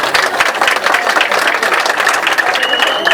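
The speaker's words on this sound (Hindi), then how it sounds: "आप लोगों के लिए ताली बजा लो" A crowd of supporters claps loudly and unevenly at the opening of an election ward office, close and busy with overlapping hand claps and faint crowd murmur.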